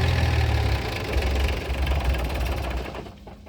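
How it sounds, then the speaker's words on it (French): The engine of a camper van with its cab tilted forward, started by a push button during routine servicing, runs with a loud, rough, knocking idle close by, then drops off sharply near the end. "c'est un petit bouton qui permet de démarrer le moteur"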